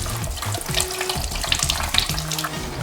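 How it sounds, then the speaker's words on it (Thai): A bathroom washbasin is washed with water, a close, continuous splashing and running-water wash with brief scrubbing swishes, steady and alone with no talk. "ก็จะมาล้างอ่างล้างหน้าแบบนี้ จะทำการใช้แปรงขัดที่นุ่มนวล"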